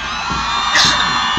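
A crowd at a college annual games march past cheering and whooping, a dense loud wash of many voices with a brief swell of shouting in the middle.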